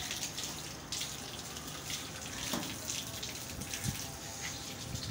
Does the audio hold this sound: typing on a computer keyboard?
no